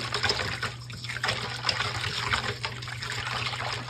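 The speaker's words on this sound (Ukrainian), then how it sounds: "Миску виливаємо опару, до неї додаємо тепле нагріте молоко, цукор, сіль та олію." Warm milk is poured into a bowl of dough starter with sugar, salt and oil, then mixed, giving a close continuous liquid pouring and sloshing sound over a low background hum.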